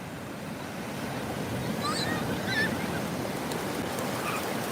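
Atlantic Ocean surf washes onto a crowded beach at Cocoa Beach, a steady soft roar of breaking waves with a few faint distant bird-like calls over it.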